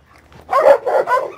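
A Caucasian shepherd dog gives a short burst of two or three close barks, sharp and fairly loud, with no other sounds around them.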